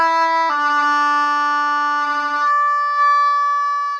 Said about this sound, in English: If your tongue is too low, then it's not going to come out clear.